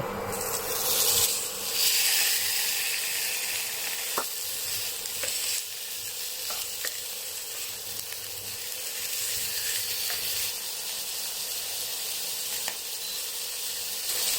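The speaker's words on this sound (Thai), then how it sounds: "เราก็คั่วไปเรื่อย ๆ นะคะ จนกว่าหมูเราจะได้ที่นะคะ" Pork belly stir-fried in a little oil in a pan, a loud steady sizzle with scraping stirs and occasional sharp spatula taps against the pan, continuing close up without any voices.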